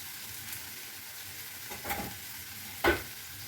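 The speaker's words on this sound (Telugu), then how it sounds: "ఇప్పుడు ఎర్రగడ్డ వేసేసుకుందాం." Onions dropped into a pan and stirred, a soft steady sizzle running throughout with a few louder scraping stirs and a sharp clatter near the end.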